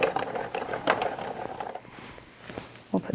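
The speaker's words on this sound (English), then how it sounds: "So we need a cutting pad at the bottom, fabric, cutting pad on the top, and we're just going to move that through the machine." A Sizzix die-cutting machine cranks layers of quilting fabric between cutting pads, giving a close, steady ratcheting, grinding mechanical churn with small irregular clicks that runs for a few seconds.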